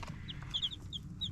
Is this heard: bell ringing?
no